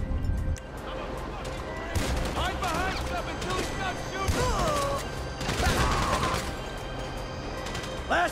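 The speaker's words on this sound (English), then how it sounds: "Hide behind stuff until he stops shooting!" Shootout gunfire in Grand Theft Auto V rattles on steadily at moderate distance, with repeated sharp shots and ricochet-like pings layered under excited shouting voices.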